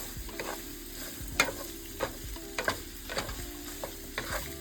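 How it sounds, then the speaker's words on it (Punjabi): Masala roasting in a pan for restaurant-style paneer lababdar, with a steady close sizzle and repeated scraping stirs of a spoon against the pan, several sharper knocks standing out above the frying. "ਆਪਣਾ ਜਿਹੜਾ ਮਸਾਲਾ ਸੀਗਾ ਉਹ ਭੁੱਜ ਗਿਆ ਦੇਖੋ ਕਿੰਨਾ ਵਧੀਆ ਭੁੰਨਿਆ ਗਿਆ"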